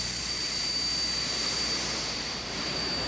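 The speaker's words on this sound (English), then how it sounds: "We started our engines and taxied out to the active runway." Military jet engines run steadily while the aircraft taxis out to the active runway, a loud continuous roar with a high whine throughout and no talk.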